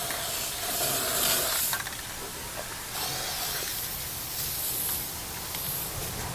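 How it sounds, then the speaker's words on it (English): A spray can hisses steadily at close range, in a few continuous bursts with brief changes in pressure. "A little spray across the top."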